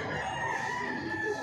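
A rooster crows loud and close, one drawn-out, strained call holding steady for over a second, with no speech over it.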